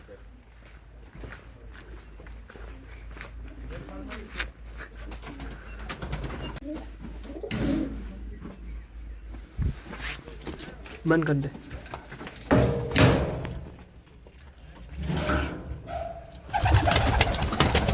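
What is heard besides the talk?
pigeons cooing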